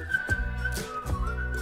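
A person whistles a short, wavering melody nearby, a thin clear tone that slides and breaks between brief pauses.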